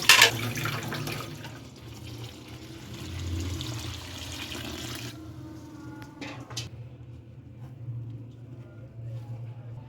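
Water runs steadily from a kitchen tap opened only partway, a soft continuous hiss that fades and stops midway through as a low hum continues.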